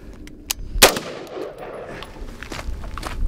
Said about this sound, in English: So I'll do this shot aiming right at the A zone of the head.